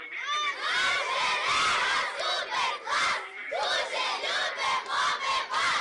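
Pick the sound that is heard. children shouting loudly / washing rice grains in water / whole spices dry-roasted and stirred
children shouting loudly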